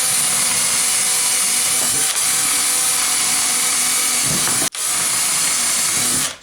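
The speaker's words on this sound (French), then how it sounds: "je vais commencer par percer mes morceaux de bois" A power drill bores into pieces of wood being made into a beehive floor, a loud, continuous whir running steadily with one brief stop near the end before resuming, close up with no talking.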